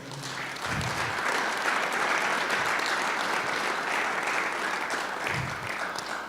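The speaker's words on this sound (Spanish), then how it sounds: "Dale un aplauso al Señor." Steady applause from a church congregation, a dense wash of clapping that holds evenly for several seconds without voices.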